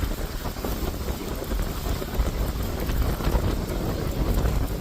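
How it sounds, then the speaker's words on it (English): Strong outdoor wind buffets the microphone in a continuous low roar with gusty swells, heard alone without any voice. "Oh my goodness, it's windy today."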